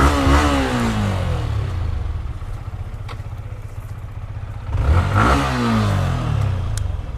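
A one-year-old Yamaha MT-15 V2 motorcycle engine revving up close, with two sharp throttle bursts separated by a rough, steady idle.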